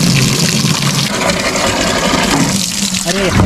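Cold water runs and gushes steadily, close and fairly loud, from a tap or pipe in a Hunza Valley mountain village in Pakistan, while voices talk briefly near the end.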